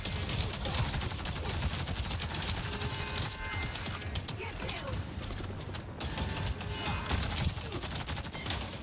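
Enemies open fire in Avatar: Frontiers of Pandora, and dense rapid gunfire rattles on without a break, with clustered bursts that are loud and close. A voice can be heard faintly under the shooting.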